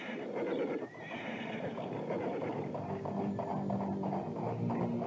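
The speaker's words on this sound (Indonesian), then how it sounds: "Kereta kuda itu terus bergerak." Horse-drawn carriage on the move, with a horse whinnying loudly early on over steady rhythmic hoof clip-clops and rolling wheel noise that continue throughout.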